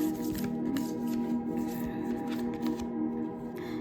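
Tarot cards shuffled and drawn from a deck for a love reading, giving a steady papery riffling and soft flicking close by over a constant low background hum, with no talking.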